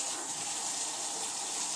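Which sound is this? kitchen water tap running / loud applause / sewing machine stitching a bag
kitchen water tap running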